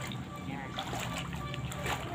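Rainwater pouring and splashing down steadily during heavy rain at a house, a continuous wet spatter with a person talking over it.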